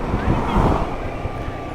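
Wind buffets a rider directly on a motorcycle, a steady loud roar of rushing air across the microphone that runs through the whole short stretch without a break.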